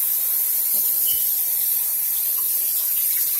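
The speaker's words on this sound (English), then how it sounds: "So let me just rinse this off a bit." Zucchini rinsed under a running kitchen tap, a steady, hissing rush of water that carries on unbroken throughout, close and fairly loud with no talk.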